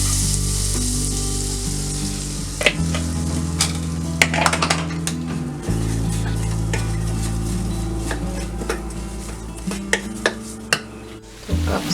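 Butter and flour sizzle and fry steadily in a pan for chicken gravy, a continuous crackling hiss with occasional stirring clinks and scrapes throughout.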